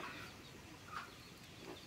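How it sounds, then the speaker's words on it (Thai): Young F1 jungle fowl chicks, male and female, cluck softly and sparsely on a rural farm, with a couple of brief, faint calls over a low background hiss. "ลูกไก่ป่า ตัวผู้ F1 กับลูกไก่ป่าตัวเมีย F1"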